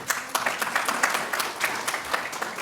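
Audience applauding at the Georgia State University Robinson College of Business DBA Spring 2024 commencement ceremony: a dense, steady patter of many hands clapping together, fairly close and even, with no voices over it.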